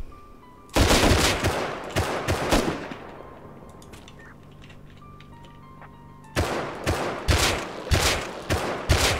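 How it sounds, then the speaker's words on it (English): Loud blasts and rapid bursts of gunfire in the video game Rust, with a grenade explosion among them; a dense barrage, then a quieter stretch of faint clicks and tones before heavy firing resumes. "That was a grenade."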